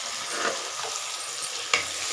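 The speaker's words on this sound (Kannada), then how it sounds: "ಇದು ನೋಡ್ರಿ ಉಪ್ಪಿಟ್ಟು ಒಗ್ಗರಣೆ ಕೊಟ್ಟೀನಿ." Tempering sizzles in hot oil for upma, a steady, close frying hiss with faint scrapes and one sharp clink near the end. No one speaks.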